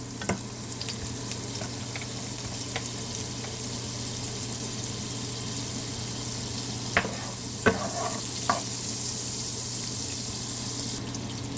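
Olive oil and butter heating in a pan, a soft steady sizzle under a constant background hum, with a few brief clicks and light clatters of utensils near the end.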